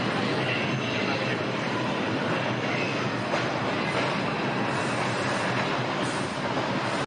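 A train approaching on its rails produces a steady, loud rumble and clatter. Broadband noise fills the whole stretch without pause and swells slightly as the train comes nearer.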